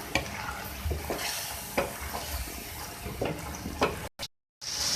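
Chicken karahi with a splash of water sizzles in a pan while a spoon scrapes through it in repeated strokes about once a second, close and steady, before the sound cuts out briefly near the end.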